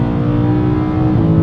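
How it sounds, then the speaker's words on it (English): A BMW E92 M3 V8 engine, fitted with an Eisenmann race exhaust, revs with a loud, low, rumbling tone that holds steady and close throughout a short burst. "It's low and rumbly at the lower RPMs, and at the higher end it's got a nice V8 scream."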